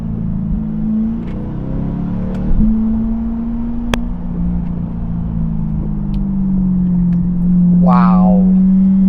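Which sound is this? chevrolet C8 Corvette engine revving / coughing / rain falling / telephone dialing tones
chevrolet C8 Corvette engine revving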